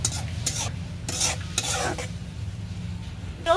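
Dried fish curry with chilli and garlic frying in a pan, stirred in several distinct scraping sweeps over a continuous low sizzle, close and moderately loud with no talking.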